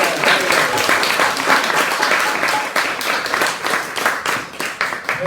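A gathered audience at a religious initiation ceremony in Newcastle claps steadily, dense overlapping applause sustained at an even loudness throughout.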